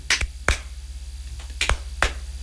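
Hand claps strike out a steady beat, sharp and close, arriving in pairs, about five in total with brief gaps between them, over a low steady hum.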